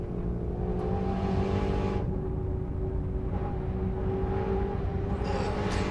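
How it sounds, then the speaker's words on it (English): On-board sound of a GT race car at Road Atlanta, a loud, steady engine drone with rising and falling revs through gear changes, continuous and close throughout. "On board with Michael Gallardi, and it looks like he's starting to catch Mike Fitzgerald"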